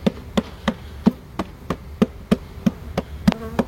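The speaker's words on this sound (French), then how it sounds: "on va secouer délicatement le reste des abeilles d'une ruche à l'autre" Honey bees buzz while being shaken from an old hive into a new one, a low insect hum under a dozen sharp, evenly spaced knocks from the hive boxes.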